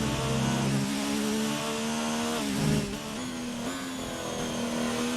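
A Haas Ferrari Formula 1 car in a racing video game, set at the Bahrain Grand Prix, holds a loud, steady high-pitched engine whine that shifts pitch slightly as it revs, alone without speech.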